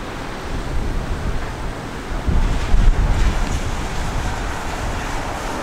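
Gusty wind on a damp, showery day buffets the microphone with a continuous rushing roar that swells in a few stronger gusts midway, with no voices.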